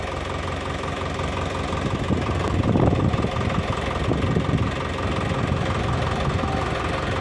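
A Farmtrac 6055 tractor with a heavy-duty front loader, its diesel engine idling in a steady, loud, knocking rumble that swells slightly mid-way, with a voice faintly under it.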